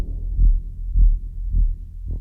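Orchestral low strings pulsing on the root every quarter note, four deep even throbs swelling and fading, loud and close with no talk.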